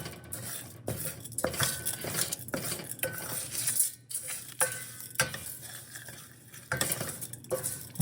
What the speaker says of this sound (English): I'm gonna start mixing it all nicely